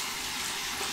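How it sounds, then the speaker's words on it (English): Hot water splashed onto a bearded face before a shave with an Edwin Jagger razor makes a loud, close, continuous watery rush with no talking. "I just used some hot water and kept splashing it on to hydrate the beard that way"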